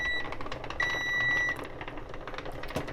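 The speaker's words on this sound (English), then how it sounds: "Here's our timer." A kitchen timer rings during home canning, a steady electronic beeping tone sounding clearly above the background for over a second, with no talk over it.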